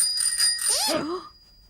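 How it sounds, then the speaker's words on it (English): A bright bell rings steadily, then a cartoonish descending warble swoops down and fades out, leaving near silence. "Oh, dear, Matthew, it seems he's got a ringing in his ears."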